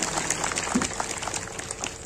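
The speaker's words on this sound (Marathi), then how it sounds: "सर्वांनी टाळ्या वाजून त्यांचं स्वागत करा." An audience at a religious gathering claps to welcome a guest. Scattered, moderately close clapping carries on steadily for a couple of seconds over a faint room murmur.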